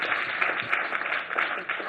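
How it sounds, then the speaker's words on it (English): A crowd applauds at an awards event marking International Women's Day, giving a soft, steady patter of clapping that stays fairly faint and even for a couple of seconds. "a big round of applause"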